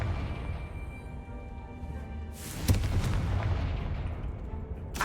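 In Hogwarts Legacy, a Confringo spell bursts with a sudden booming blast and crackle, a loud close explosion rising out of a low ambient rumble, then fading into a lingering roar.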